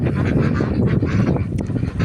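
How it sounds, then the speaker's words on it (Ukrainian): Domestic ducks and geese honking and quacking together in a farmyard, a close, loud, continuous chorus of overlapping calls with wind noise. "Зараз подивимось, що тут наші качки з гусями."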